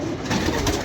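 Pigeons cooing in a brief, close burst of soft, throaty calls over a steady background hum, with no speech.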